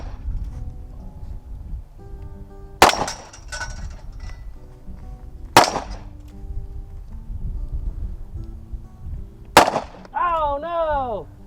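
A Great Western II Buntline revolver fires at a target on a rail outdoors: three loud, sharp cracks spaced several seconds apart over a low background rumble, followed by a brief wavering tone.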